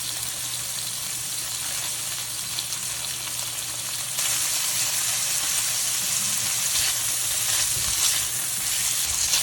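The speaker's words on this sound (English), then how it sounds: "The shrimp mustn't overcrowd the pan, otherwise the shrimp will steam instead of sear." Shrimp sear in a hot frying pan for fried rice, giving a steady, dense sizzle and crackle that runs throughout and swells a little louder midway, close and uninterrupted with no talking.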